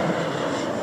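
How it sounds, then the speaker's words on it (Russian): A jet airliner landing at Larnaca airport, heard from Mackenzie beach as a steady, loud broadband engine roar that fills the moment without pause. "О, садится самолет."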